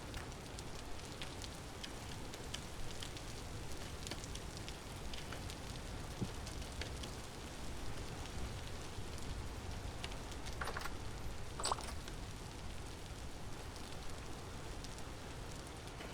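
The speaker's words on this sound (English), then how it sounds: "Right now it's raining, so it's fine, but it won't be fine once it stops raining." Steady rain in the Vintage Story video game, a dense, even hiss with a low rumble that runs unbroken, with a few brief sharper ticks near the end and no voices.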